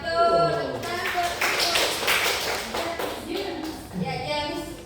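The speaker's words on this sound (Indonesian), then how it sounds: "tepuk tangan buat Nazura" Students in a classroom give a short round of applause for a classmate. A burst of scattered clapping rises in the middle of the clip, while the teacher's voice talks before and after it.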